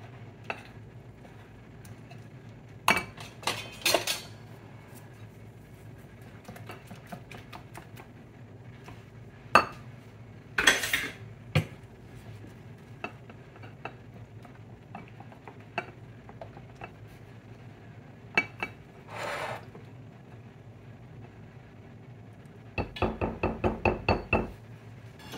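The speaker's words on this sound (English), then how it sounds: "you're just going to mix this up. And here's you just making a sort of a runny type batter" Runny batter for coconut shrimp is mixed in a bowl, with scattered utensil clinks and knocks against the bowl over a quiet background and a quick run of rhythmic taps near the end.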